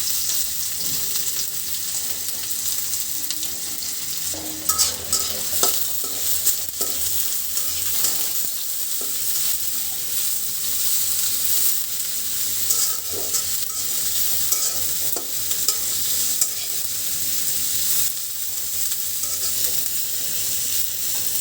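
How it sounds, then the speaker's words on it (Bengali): Chopped onion and green chili fry in a hot wok, a steady bright sizzle running throughout with repeated scraping stirs and small clatters of the utensil, close and continuous with no talking. "পেঁয়াজ কাঁচামরিচটা হালকা করে ভাজি করে নিব।"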